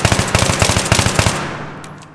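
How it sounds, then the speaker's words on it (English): Short controlled bursts of AEK assault rifle fire in the video game Battlefield 3, a rapid, loud series of shots tapering into a fading echo. "So to control this, I basically do bust fires"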